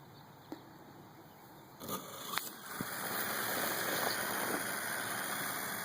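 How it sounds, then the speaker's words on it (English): Parrot AR Drone 2.0 motors starting up: a steady high whine that swells into a louder, fuller broadband whir about two seconds in and then holds, with a couple of faint clicks. "Executing start engine."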